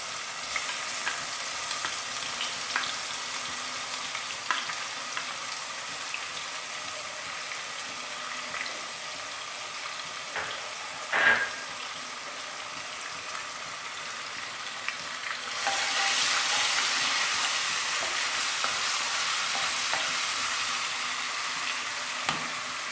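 Ginger garlic paste frying in oil with cinnamon for chicken karahi, a continuous moderate sizzle with light spoon knocks that swells into a louder, brighter hiss later on.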